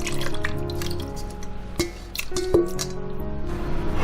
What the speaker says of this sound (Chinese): 腌制的料汁也倒进来